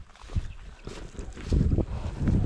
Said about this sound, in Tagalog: Medyo malakas na yan ng hangin